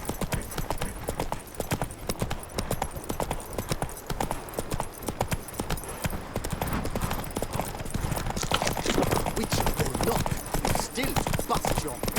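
Horse galloping in The Witcher 3, with rapid, continuous hoofbeats on the ground that stay loud and close throughout, alongside faint game sounds.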